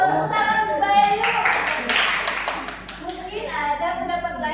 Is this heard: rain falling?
no